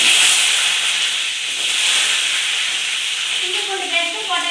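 Small shallots dropped into hot tempering oil, a loud, steady hissing sizzle that carries on unbroken, close to the pan.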